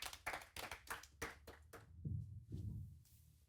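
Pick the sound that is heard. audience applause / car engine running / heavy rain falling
audience applause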